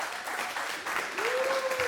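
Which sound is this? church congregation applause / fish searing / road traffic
church congregation applause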